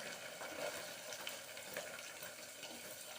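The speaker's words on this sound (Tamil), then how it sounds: "அதையும் இதோட போட்டு நல்லா வதக்கின்றலாம்." Onions and green chillies sautéing in a pan for a chapathi sabji, a soft steady sizzle with faint scraping, quiet and continuous without talk.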